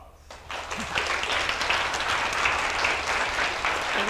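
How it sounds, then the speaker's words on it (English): Steady audience applause at a UCLA artist lecture welcoming painter Rebecca Morris, a dense even patter of many hands sustained throughout after a brief quiet start. "please join me in a big round of applause"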